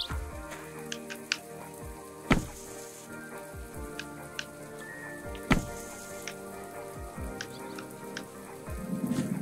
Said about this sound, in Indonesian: Hujan guys. Hujan.